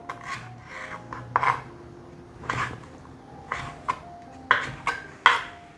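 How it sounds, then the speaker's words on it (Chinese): A knife chops soaked shiitake mushroom stems on a cutting board, sounding as about eight close, crisp scraping cuts in an uneven rhythm. "香菇角切下来"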